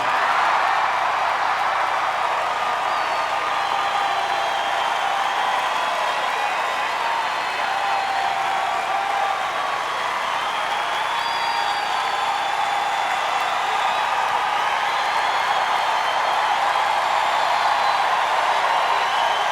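Hometown crowd at a DCI drum corps awards ceremony cheering and applauding the Madison Scouts, a dense, sustained roar of clapping and shouts held at a constant level throughout.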